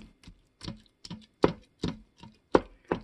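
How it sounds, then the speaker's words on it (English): A wooden utensil breaks up tender cooked chicken in an Instant Pot, giving eight or nine separate soft thumps and scrapes at a steady, roughly even pace, close and clear, with no talk. "The chicken's so tender, you can just use a wooden utensil to break it up with."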